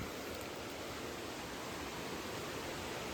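Water pours steadily down an anicut channel near Miyunu Ella waterfall in Gawaragiriya, Sri Lanka, a constant soft broadband rush with no voices.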